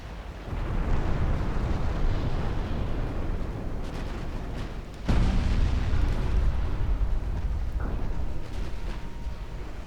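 A torpedo detonates in the naval warship game Ultimate Admiral Dreadnought, a heavy booming blast that hits sharply mid-clip over a sustained roar of battle rumble and distant explosions.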